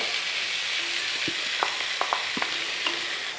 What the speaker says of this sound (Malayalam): രണ്ട് തക്കാളി അങ്ങോട്ട് ഇട്ട് കൊടുക്കുക